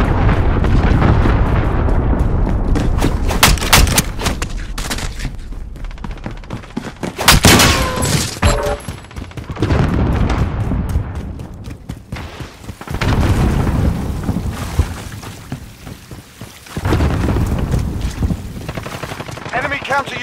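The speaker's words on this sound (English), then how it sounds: "Missile away. Enemy cruise missile incoming." Cruise missile strikes in Call of Duty Modern Warfare multiplayer: loud, continuous booming explosions and rumbling blasts mixed with bursts of rapid gunfire, several big impacts in succession, dense and close throughout.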